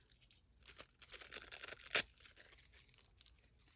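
Sewing tissue paper being crumpled by hand gives a faint, crackly crinkling with one sharper rustling burst near the middle. No one speaks.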